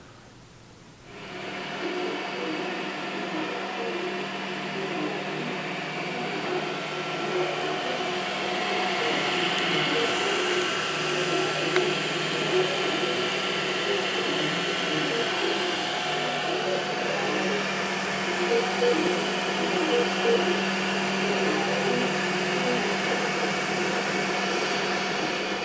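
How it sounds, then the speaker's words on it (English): A 3D printer runs a filament print, giving a steady, fairly loud mechanical whir with faint tonal hum that holds unchanged for the whole stretch, with no talking. "plug that into the printer, and the printer will do its job."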